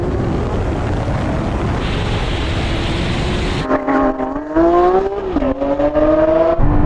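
Two Lamborghini Aventador V12s, an Ultimae and an SVJ, in a straight-line race: a loud, sustained broadband engine roar, then rising gear-by-gear wails with abrupt shift breaks as the cars accelerate hard.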